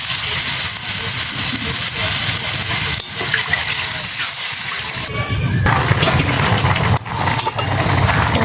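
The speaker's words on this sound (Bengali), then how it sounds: "এবার দিয়ে দেবো জল, পরিমাণ মতো জল দেবো," Water poured into a curry pan with chopped tomatoes gives a loud, continuous rushing splash lasting several seconds, its texture shifting midway, with no talk over it.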